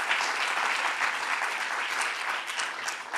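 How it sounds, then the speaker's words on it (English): An audience in a hall at John Jay College of Criminal Justice, CUNY, gives dense, sustained applause that holds at a steady loud level for the whole stretch. "So let's give John Jay and CUNY a round of applause for hosting us today."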